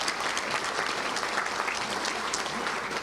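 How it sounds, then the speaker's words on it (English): Luncheon crowd at a touchdown club meeting gives a round of applause, dense, continuous clapping from many hands at moderate distance, steady throughout with no talking over it. "Let's give them a round of applause if you don't mind."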